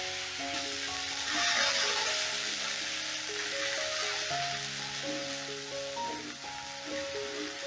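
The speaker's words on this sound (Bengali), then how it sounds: "এবারে আদাটাকেও একটু ভাজা ভাজা করে নেব, যতক্ষণ আদার কাঁচা গন্ধটা না যাচ্ছে" Ginger and green chili paste fries in hot oil for a vegetarian mung dal curry, giving a steady, even sizzle throughout, with faint tonal background music underneath.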